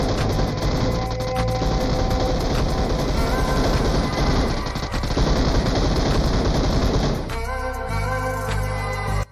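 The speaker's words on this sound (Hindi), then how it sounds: "मुझे पहले ही लगा था ये पागलों की तरह गोलियां बरसा रहे हो, खत्म तो होगी एक टाइम पर।" Sustained automatic gunfire from a PUBG match, dense rapid bursts filling the whole stretch with heavy low rumble, loud and continuous, shifting near the end to a deeper mechanical drone.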